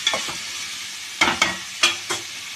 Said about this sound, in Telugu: కొంచెం వేయించుకోవాలన్నమాట